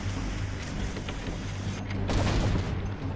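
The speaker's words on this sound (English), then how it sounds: "one more volley should finish off that pirate ship right there" A naval cannon volley fires from a ship at a pirate ship in the video game Rise of Venice, several muffled booms and cracks over a low steady engine-like drone.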